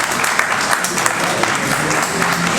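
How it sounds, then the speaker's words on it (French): Standing ovation for Liberian President George Weah at the opening of the ECOWAS Parliament session: dense, steady applause from a large audience, loud and continuous throughout with a few voices mixed in. "A standing ovation pour le président."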